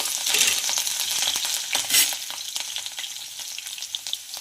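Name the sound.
garlic frying in oil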